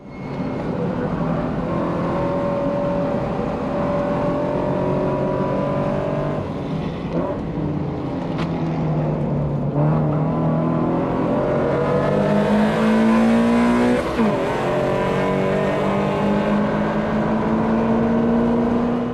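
A Subaru BRZ and a Ford Mustang race around a track, engines roaring loud and close from inside the car, rising in pitch through repeated upshifts with brief dips between gears.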